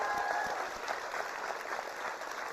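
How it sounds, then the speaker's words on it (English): A crowd at a Surrey charity ballroom dance show gives a warm round of applause for seven dancing couples, dense continuous clapping that holds at an even level for the whole stretch. "I think we should give them all a huge round of applause for all their effort."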